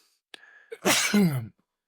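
A single loud, close sneeze with a sharp intake beforehand and a forceful burst lasting about half a second, heard alone in a quiet room.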